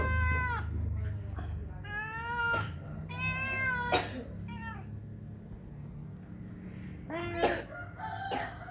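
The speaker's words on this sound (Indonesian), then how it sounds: "Masih mengeong-ngeong." A calico cat meows several times in close, drawn-out cries with short pauses between, over a quiet room background at night.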